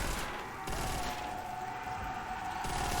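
Gunfire in Call of Duty: World at War Zombies on the Verruckt map, a steady stream of rapid shots from a weapon with wild recoil, moderately loud with no pauses.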